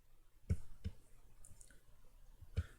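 A computer mouse clicks sharply several times, with two close pairs of quiet, dry taps and a final click spaced apart against near silence.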